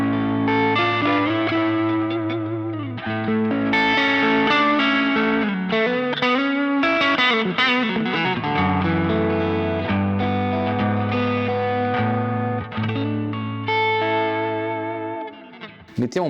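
Electric guitar played through a Quad Cortex preset with overdrive, an always-on compressor and reverb: sustained distorted chords and melodic lead lines ring out continuously, loud and close, with chorus-like shimmer and no talking.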